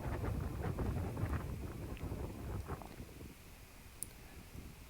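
Wind on a golf course, out in the rough on a slope, rumbles and buffets steadily against the microphone, with a few faint clicks over the low gusty roar.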